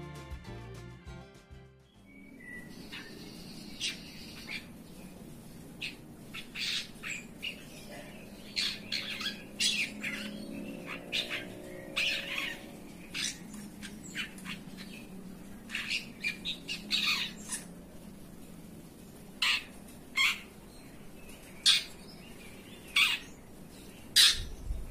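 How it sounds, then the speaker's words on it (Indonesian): Young long-tailed shrike (cendet) practising its song: a long run of harsh, scratchy squawks and chirps in irregular bursts, close and fairly quiet, with no talk. "seperti inilah ketika burung cendet saya sedang belajar ngeriwik"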